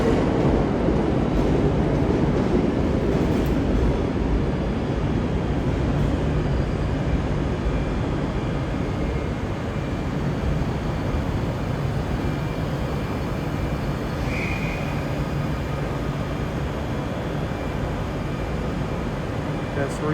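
Class 320 electric train pulling into Glasgow Central station, a steady rumbling roar with rail and traction noise holding loud throughout, a brief squeal near the end.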